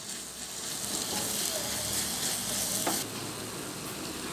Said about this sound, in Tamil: சின்ன தீயில் வச்சு கிண்டி அதை பேஸ்ட் மாதிரி வேக வச்சிடணும்